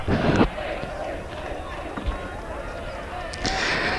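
Large crowd of spectators at a 1985 schoolboy first XV rugby match between Joey's and Riverview, a steady murmur of several thousand people in the open with louder swells at the start and end.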